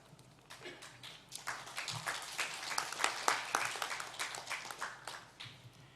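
Applause fills a council plenary session at a regency legislative assembly in Sumedang, Indonesia: dense, steady clapping from a crowd that builds after the first second and stays strong, with no talk over it.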